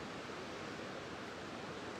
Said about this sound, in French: écouter le son de cette rivière